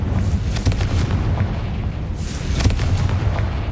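Spell explosion from Hogwarts Legacy on PS5, a dense booming blast texture with two sharp bursts about two seconds apart over a continuous rumbling roar.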